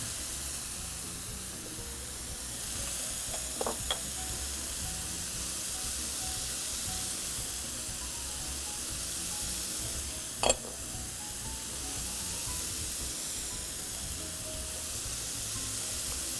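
Brined pork chops sizzle in a frying pan, a steady close hiss and crackle that runs throughout, with a couple of brief clinks standing out.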